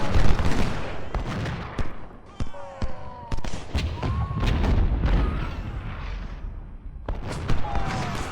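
Battle in the video game Ultimate General: Civil War brings repeated rifle volleys and booming artillery shots, loud bursts of gunfire scattered through the clip with whistling shell sounds, while someone talks over them.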